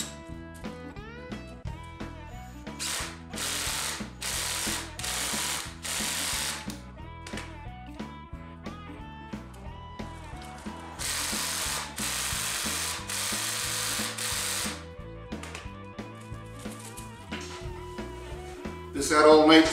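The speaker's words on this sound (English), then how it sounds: "it's just a matter of putting the hose clamp on and tightening it" A hose clamp is ratcheted tight around a glued segmented woodturning ring, bursts of rapid clicking from a driver coming in several separate runs with pauses between, close and fairly quiet.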